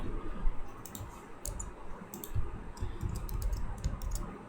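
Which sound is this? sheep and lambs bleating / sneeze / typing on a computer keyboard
typing on a computer keyboard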